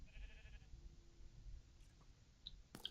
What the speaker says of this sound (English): there's a sheep here somewhere